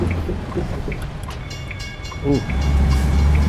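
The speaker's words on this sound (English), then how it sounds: "Train coming. I just got off in time." A passenger train rolls past in American Truck Simulator near Santa Fe, New Mexico, a rumbling passage that swells louder toward the end, with a brief voiced exclamation partway through.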